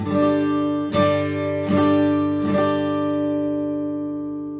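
Three evenly spaced plucked double stops on a guitar in drop D tuning, each ringing out in a low, sustained tone before fading.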